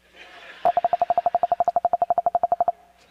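A phone rings in a room during preaching: a loud, rapid electronic trill of about two dozen evenly spaced beeps in one steady burst, with nothing else over it.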